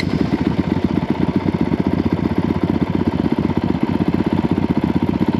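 A Honda CRF450 R dirt bike engine runs steadily close by, a rapid even thumping pulse holding for several seconds with no voices over it.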